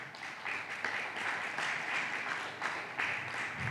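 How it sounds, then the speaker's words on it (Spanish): Audience applause at a history lecture commemorating José Martí, a steady wash of many hands clapping throughout, moderately close and sustained with slight swells. "Yo creo que hoy podemos también darle un aplauso a José Rafael de las Heras"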